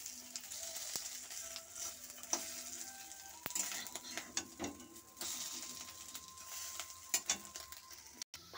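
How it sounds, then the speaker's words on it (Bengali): Fish roe fritters in gram flour batter fry in hot oil as a soft, steady sizzle, with occasional light clicks of a utensil turning them, close and quiet, with no talk. "এখানে আমি ডিমগুলো ভেজে নিচ্ছি"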